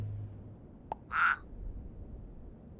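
A single short, bright frog croak from the video game Super Auto Pets sounds against a quiet background, preceded by a faint click.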